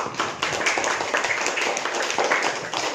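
A small group claps steadily for a few seconds, a dense patter of hand claps at moderate volume.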